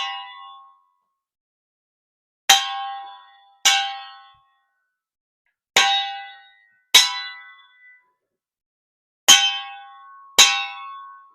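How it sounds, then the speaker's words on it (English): A Chinese night watchman's gong struck in pairs, each clang ringing out and fading, three pairs of resonant metallic strikes separated by silence, close and clear with no talk. "And you hear two long notes."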